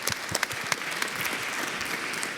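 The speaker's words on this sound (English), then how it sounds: "So please, round of applause." An audience at the FMX 2016 conference claps for a virtual reality talk, producing dense, sustained applause with a few sharper individual claps standing out near the start.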